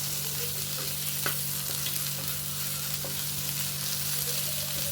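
Paneer sautés on a tawa in a steady, loud sizzle, with a few scraping stirs breaking through alongside a low background hum.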